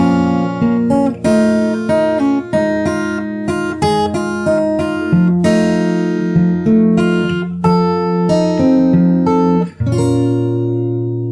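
Unaccompanied fingerstyle acoustic guitar plays the second round of a song's chorus, with a busy, steady stream of plucked notes that ends on a low ringing chord. It is close and clear, with no speech.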